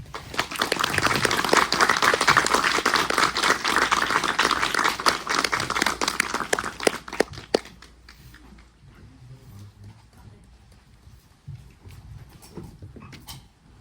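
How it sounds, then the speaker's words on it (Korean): An audience at a film festival Q&A screening in a Seoul cinema claps for the director and actors coming on stage, loud and busy for about seven seconds, then thinning to scattered claps and quiet room noise. "그럼 감독님과 배우들 모실 테니까 큰 박수 한번 부탁드리겠습니다"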